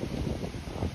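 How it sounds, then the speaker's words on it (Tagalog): Strong, cold wind in Pickering, Ontario buffets the microphone in a continuous low roar, gusting and rumbling throughout the second with no voices. "Lakas ng hangin."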